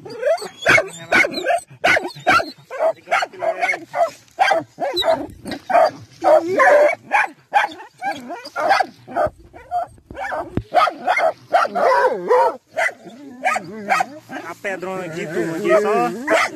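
Hunting dogs barking and yipping in rapid, overlapping bursts, loud and close, with whimpers mixed in, while people talk over the noise.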